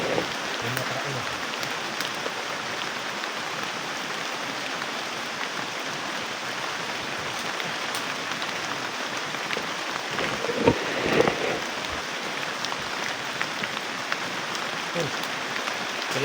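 Steady rain falls in an outdoor setting in the Philippines, a constant even wash of drops with no pauses and a few louder patter bursts partway through.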